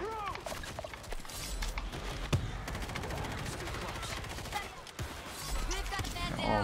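Rapid gunfire bursts in World War Z horde mode, repeated crackling volleys with a sharp heavy shot midway, running over a steady noisy game backdrop while players talk excitedly.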